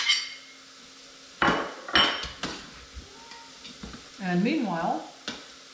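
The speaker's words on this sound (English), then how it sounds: "we're going to just let all that saute together for a few minutes." Beef and onions sautéing in an Instant Pot give a soft sizzle under sharp clanks and scrapes of a utensil against the pot, with a rising whine near the end and someone speaking briefly.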